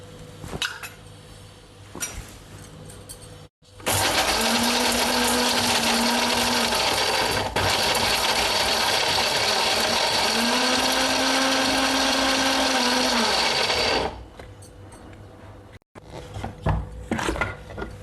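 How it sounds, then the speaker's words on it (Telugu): A kitchen mixer grinder whirs loudly, coarsely grinding garlic, salt and tamarind for an eggplant and coriander chutney, running in a steady roar of about ten seconds with a brief pitch dip midway, then cutting off to quieter handling noise. "ఇప్పుడు చూడండి ఇది కచ్చాబిచ్చాగా గ్రైండ్ అయిందండి."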